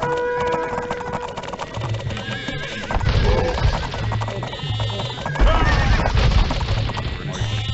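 Horses neigh and whinny repeatedly in Age of Empires amid clashing, thwacking combat, loud and busy throughout with a faint voice here and there.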